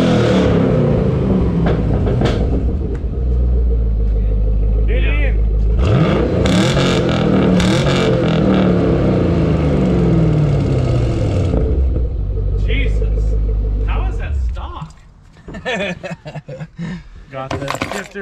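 A Chevrolet Camaro SS V8 engine revs loudly in bursts, with deep rumbling swells and a long roaring run in the middle, close by, fitted with a short shifter and stock mufflers; a voice speaks briefly toward the end.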